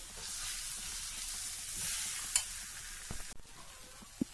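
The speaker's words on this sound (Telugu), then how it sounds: "ఆ ఉండ చేసుకోవడానికి వచ్చేదాకా మనము వీటిని ఇలా కలుపుతూనే ఉండాలి" Steamed ragi and jaggery sweet mixture is stirred in a pan, a soft continuous hiss with faint scraping, a few light knocks near the end.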